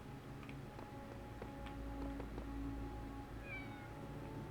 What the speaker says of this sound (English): I'm hearing a meow.